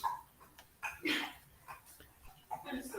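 A dog makes several short barks and yips in quick succession, moderately close, with some faint background speech mixed in.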